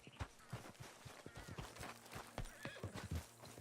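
A horse in the video game Red Dead Redemption 2 whinnies amid steady clip-clopping hooves, with snorts and hoofbeats close by, no talking.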